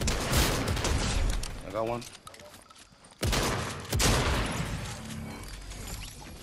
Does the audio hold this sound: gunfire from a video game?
yes